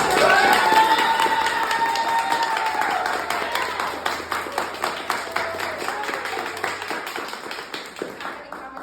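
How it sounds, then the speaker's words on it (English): Audience at a presentation breaks into loud applause and cheers, with shouts and whoops at first, then the clapping thins into scattered individual claps as it fades. "So I would love for us to give a big round of applause."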